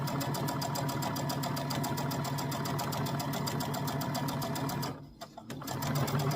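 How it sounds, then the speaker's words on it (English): A sewing machine runs a straight stitch along a quilt block's fabric edge, a fast, even, close mechanical rattle that holds steady, then briefly stops near the end before starting again. "I just back stitch there, and then just go along the edge"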